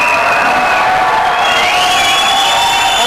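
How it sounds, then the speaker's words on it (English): An audience at the Bangalore Tech Summit breaks into loud, sustained applause mixed with cheering and whoops, filling the hall continuously. "Huge round of applause, please"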